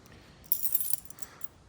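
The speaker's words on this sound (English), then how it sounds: "Let me just try and find the keys." Car keys for a 1982 XE Ford Falcon barn find jangle close by while being dug out, with a sudden metallic rattle then a few lighter clinks fading over about a second.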